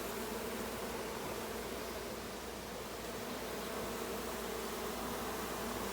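A mating swarm of insects buzzes over a yard as a faint, dense, continuous hum. The drone holds steady from start to finish with no pauses.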